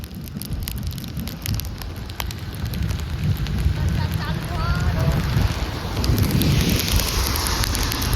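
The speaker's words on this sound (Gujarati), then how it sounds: "વરસાદ ચાલુ થઈ ગયો છે" Rain starting during a car journey toward Patan at dusk, a steady broadband wash of rainfall and wind noise over low road rumble, continuous and fairly loud throughout.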